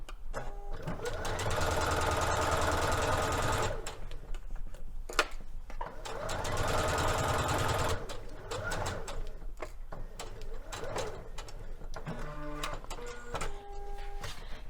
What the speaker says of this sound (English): So let's go to the machine and baste our edge.